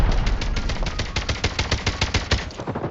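Rapid automatic gunfire in a first-person shooter, a dense run of evenly spaced sharp shots fired through a wall, loud and close with no talking.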